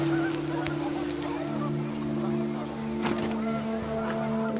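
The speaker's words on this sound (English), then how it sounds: "The wind picked up and panicked geese appeared and quickly went" Panicked geese honk repeatedly in the video game What Remains of Edith Finch, their calls layered over a steady droning tone and wind, a little louder around the middle.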